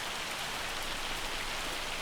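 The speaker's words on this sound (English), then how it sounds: "Oh, it's hailing," Hail falls in Farming Simulator 25: a dense, continuous hiss of pellets striking surfaces, loud and even throughout with no voices.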